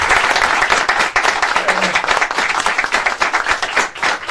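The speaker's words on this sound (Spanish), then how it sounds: "Se merece un buen aplauso" Applause from the audience at a book presentation in La Fnac: loud, sustained clapping from many hands, dense and continuous throughout.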